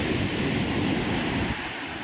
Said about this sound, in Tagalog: Ang ganda po ng dagat talaga dito.